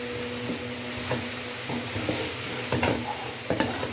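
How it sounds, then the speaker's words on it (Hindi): Capsicum and cauliflower frying in a pan, with a steady close sizzle and repeated scraping stirs at irregular intervals. "अब ये वाली शिमला और गोभी डाल के हम इसे 1 से 2 मिनट इसे हम भूनेंगे"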